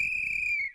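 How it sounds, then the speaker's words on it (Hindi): A single shrill whistle cuts through a still night, one steady piercing blast lasting under a second before stopping abruptly, close and clear over a faint low background. "ये सीटी चौकीदार ने नहीं बजाई थी, ये यश था"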